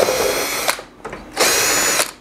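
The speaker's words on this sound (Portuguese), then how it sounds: "Solto quatro parafusos." Power screwdriver loosening the casing screws on a Midea Air Volution split inverter air conditioner, two close whirring bursts of about half a second each with a short pause and a tap between them.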